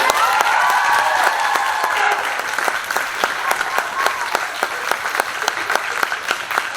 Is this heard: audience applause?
yes